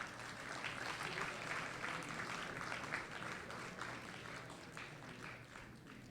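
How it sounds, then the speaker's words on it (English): Audience applause at an awarding ceremony for outstanding young men and women, a steady wash of clapping from a large indoor crowd that holds fairly even for several seconds before easing slightly toward the end. "A big round of applause, please"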